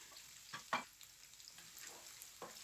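Onions fry in oil in a pan for spinach sauce, a faint steady sizzle broken by a few brief stirring scrapes, close but quiet.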